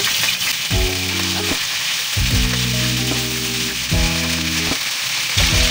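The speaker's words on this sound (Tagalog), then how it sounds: "Ipa-fry lang po natin hanggang maging golden brown yung ating chicken." Chicken sizzles steadily in hot oil as it fries to golden brown. The hiss is continuous and close, with background music playing over it and no talking.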